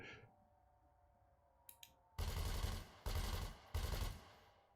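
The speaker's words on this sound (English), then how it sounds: "who's sitting and shooting at me, doing his level best to try and take me down" A multi-cannon fires on the player in a space combat game, three loud, dense bursts of rapid gunfire a second apart, preceded by a couple of faint clicks and a low hum.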